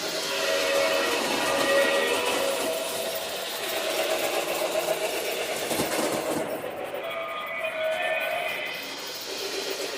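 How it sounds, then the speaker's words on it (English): A toy train running around a track on a layout with toy cars, its steady rolling rumble and clatter continuous and fairly close throughout, with a faint whistle-like tone. "I wanted the train to go the opposite direction"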